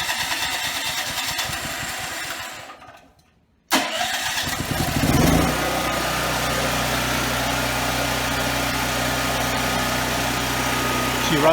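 A portable generator engine kept for hurricane season cranks, cuts briefly, then catches and settles into a steady, loud, close idle drone.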